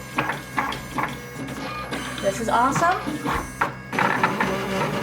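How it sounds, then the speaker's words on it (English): Uninet iColor 250 printer printing and cutting a sticker: rhythmic mechanical whirring and clicking passes, a close carriage sweep, with a person talking excitedly over it. "So I hit it, and it is printing."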